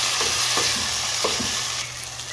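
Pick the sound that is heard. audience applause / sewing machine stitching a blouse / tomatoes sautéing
tomatoes sautéing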